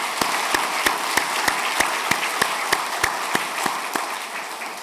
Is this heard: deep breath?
no